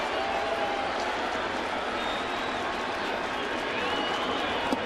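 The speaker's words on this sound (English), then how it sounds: "Crowd looking for a strikeout" Baseball stadium crowd at a New York Yankees home game against Tampa Bay, building murmur and cheering as fans wait for a strikeout, a broad steady roar with a voice speaking over it.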